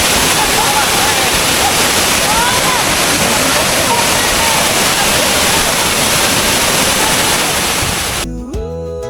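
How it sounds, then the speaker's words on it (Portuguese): Cachoeira Peri-Peri, a waterfall in the mountains of Pernambuco, roars as a loud, steady, close rush of falling water, ending abruptly as music begins. "Nas montanhas ouvir a cachoeira cantar"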